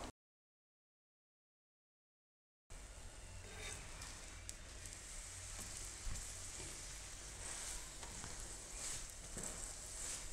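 Spicy radish paratha cooking on a pan, heard after a brief silence as a steady, close sizzle and crackle of frying that continues evenly to the end.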